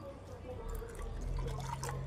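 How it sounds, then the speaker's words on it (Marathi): Cold water from the fridge trickles and splashes steadily into a pot close by, over a low background hum, while making raw mango panha. "त्यामध्ये पाणी सुद्धा ऍड करायचं आहे,"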